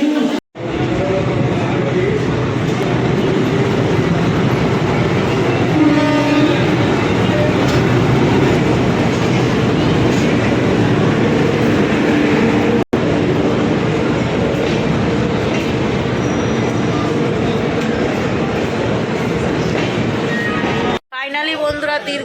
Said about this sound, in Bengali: ফাইনালি আমরা হাওড়া স্টেশনে এখন ট্রেন ধরতে যাচ্ছি।